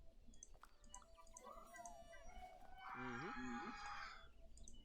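A chicken from the video game Tales of the Shire clucks and crows amid a game scene, with one louder stacked burst of calls near the end over steady background ambience and faint music-like tones.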